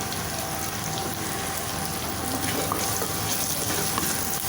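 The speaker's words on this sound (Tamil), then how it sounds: "இப்போ இது கூட சின்ன பூண்டு 10 பல் பூண்டு கட் பண்ணி வச்சுருக்கேன், அதையும் போட்டுக்கலாம். கொஞ்சமாக கருவேப்பிலை போட்டுக்கலாம்." About ten small garlic cloves and a few curry leaves fry in hot oil in a pan for a Tamil tamarind mochai kottai kulambu, giving a steady, close, continuous sizzle and crackle with no voice over it.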